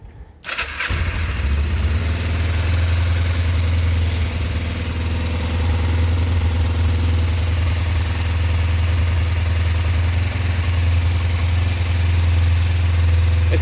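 A Kawasaki ER5 motorcycle engine cranks and fires up after a brief moment, then settles into a loud, steady, close-up idle that runs on unbroken with no talking.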